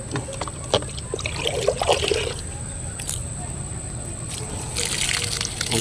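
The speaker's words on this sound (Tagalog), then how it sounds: "Tuloy lang tayo sa pagdilig mga idol." Water trickles and splashes onto eggplant plants during hot-weather watering, uneven dribbling and sloshing bursts close by, with faint background noise throughout.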